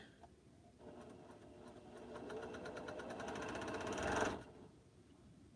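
A newly plugged-in sewing machine running at a steady, rapid stitching rhythm, building to a louder burst before easing off, heard close up with no talk over it.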